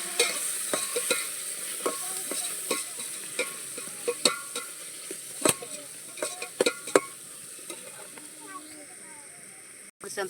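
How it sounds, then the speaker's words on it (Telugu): A fish curry being stirred in a pan after chili powder goes in, with repeated scraping clicks of the spoon against the metal pan over a steady sizzle, close and moderately loud, no talking. "ఇప్పుడు మిరపొడి చూడండి కలిపెట్టుకున్నాము"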